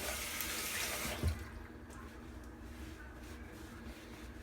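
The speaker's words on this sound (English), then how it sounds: "I just turn it upside down like this and run it up under the water" Tap water streams briefly over an upturned safety razor during rinsing, a splashing rush that stops after about a second and leaves a quiet background.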